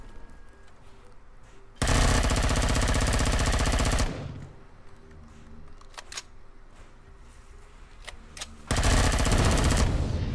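Two long, loud bursts of rapid automatic fire in Empyrion Galactic Survival, separated by a quieter stretch with scattered single shots.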